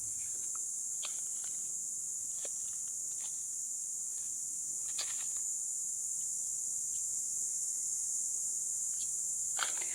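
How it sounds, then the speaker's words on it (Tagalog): Crickets on a rural farm lot planted with lanzones and coconut trees keep up a steady, unbroken high-pitched drone for the whole stretch, with a few faint clicks and rustles scattered beneath it and no talking. "maririnig nyo na po ang ugong po ng mga kuliglig"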